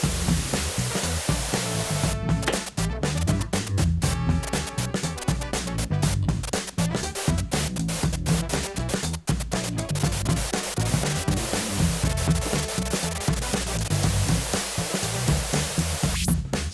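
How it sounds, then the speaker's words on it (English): Dense hissing noise wash from a RANE FOUR DJ controller's noise effect, layered over a looping music track, steady and loud throughout with a brief choppy stutter near the start. "So that's with the noise effect."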